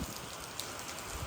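Heavy monsoon rain falling, a dense continuous hiss of drops close by with occasional louder patters, steady throughout and no voices.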